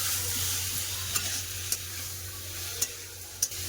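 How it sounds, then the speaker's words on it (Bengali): Ridge gourd, potatoes and spices fry in a pan, giving a continuous close sizzle with a few light stirring clicks of a spatula and no talking. "ভালো করে সব একটা ঝিঙ্গা আলু মশলা খুব সুন্দর করে কষে নেবো"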